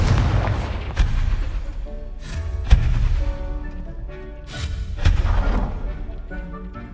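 The Confringo fire-blast spell goes off in Hogwarts Legacy as a run of loud, heavy booming explosions, several in sequence with rumbling between them.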